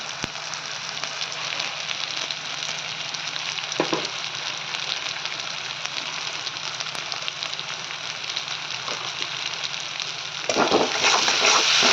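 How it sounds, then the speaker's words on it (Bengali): Spice paste for a kosha mutton curry fries in a pan with a steady, close, crackling sizzle that runs the whole time, then grows louder and busier near the end as it is stirred. "মশলাটা দেখো ভাজাটা হয়ে গেছে।"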